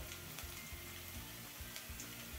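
Finely chopped green chillies sizzle steadily in a pan over a medium flame, a dense, even frying hiss with faint low ticks, quiet and continuous.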